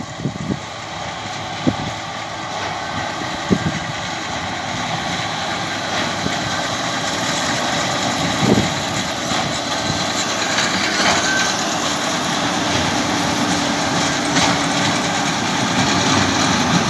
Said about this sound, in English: We have a John Deere doing some baling.